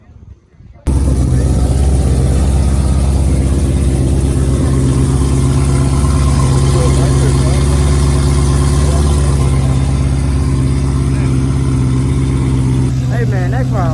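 Loud tuner car exhaust rumbles steadily and close by for most of the stretch after a brief quiet start, a continuous idling engine drone with a faint rising whine near the end.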